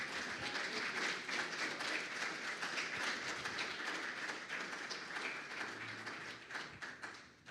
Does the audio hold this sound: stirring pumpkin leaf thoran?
no